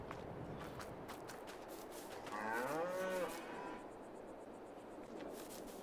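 Cattle on a farm in Farming Simulator 22, on an Italian Emilia map, give one drawn-out wavering moo over faint ambient farm noise and soft footsteps, with no one speaking.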